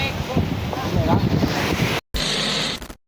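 Rough sea waves in the Philippines roar and wash continuously against heavy wind buffeting on the microphone, cutting out briefly before resuming, then stopping abruptly.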